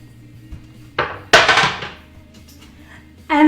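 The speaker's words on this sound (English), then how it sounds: "I'm just gonna add my 2 whole bay leaves and my diced tomato." Bay leaves and diced tomato drop into a pan with a couple of sharp clattering impacts followed by a brief rustling spill, then quiet kitchen background and a short tonal sound at the end.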